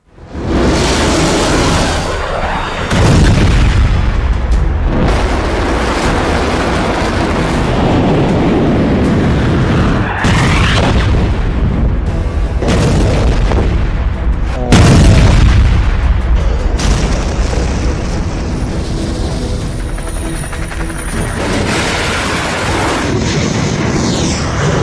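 Repeated heavy booming explosions from Iranian missile strikes, loud and continuous, with rumbling blasts rolling one after another throughout and no voices.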